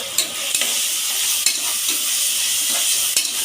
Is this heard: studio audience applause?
no